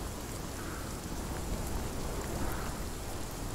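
Driving rain from a storm in the video game Sons of the Forest roars on steadily, a thick, loud hiss of downpour with faint rumbling thunder underneath.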